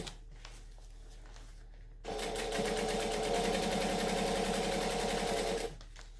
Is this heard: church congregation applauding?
no